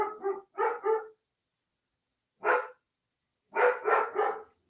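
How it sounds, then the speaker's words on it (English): A dog barks in short bursts, two quick barks, a pause, one more, then a rapid run of three, close and fairly loud against silence. "Your dog's going mental."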